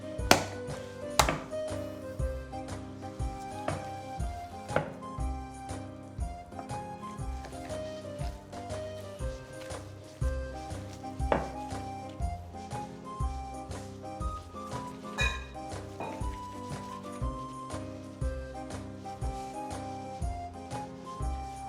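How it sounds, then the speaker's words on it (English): A knife chops brown onion, garlic and basil on a cutting board in a home kitchen, a steady run of crisp, close taps over tuneful background music. "I got all my choppy done. It's not much, just brown onion and garlic and some basil."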